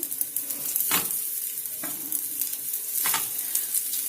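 Battered pieces frying in oil over a medium flame, a continuous close sizzle and bubbling with a few sharper crackles and spoon scrapes along the way.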